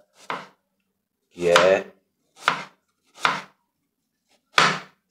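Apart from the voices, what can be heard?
knife cutting an onion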